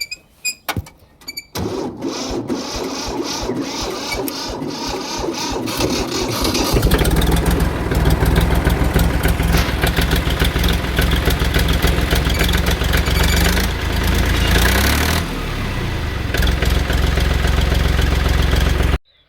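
A farm tractor engine starts with clatter and then runs with a loud, steady mechanical drone, close by, rising slightly toward the end before cutting off.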